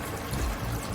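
Water being poured into a pot of mutton masala while cooking nalli nihari, a steady close splashing rush lasting about a second with no talk.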